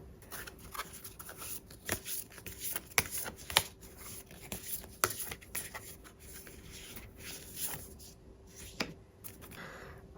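Tarot cards are shuffled by hand up close, with soft repeated riffling and scattered sharp flicks and taps over about ten seconds, quiet and without speech.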